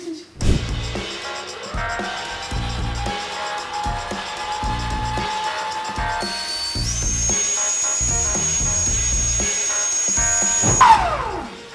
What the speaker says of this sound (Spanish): Lo batí un montón hasta que haga espumita